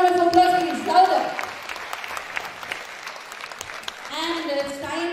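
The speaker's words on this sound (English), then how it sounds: "So can you give them a big round of applause, please?" School audience applauding students at a science day quiz, a moderate wash of clapping and crowd noise under and between voices, with speech at the start and end.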